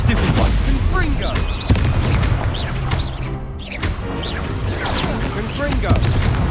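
Blasting-spell explosions from the Hogwarts Legacy video game burst repeatedly in a dense, noisy battle mix, layered with spell effects and a voice shouting incantations.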